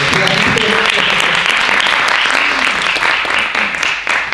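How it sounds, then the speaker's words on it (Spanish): Loud, dense audience applause closing a conference talk on musical improvisation and creativity, a continuous roar of clapping with voices faintly mixed in. "le damos un aplauso a la conferencia"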